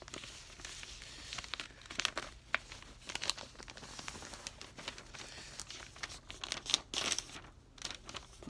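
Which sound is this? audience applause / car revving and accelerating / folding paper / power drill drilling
folding paper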